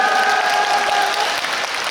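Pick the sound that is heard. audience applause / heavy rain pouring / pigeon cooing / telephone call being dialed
audience applause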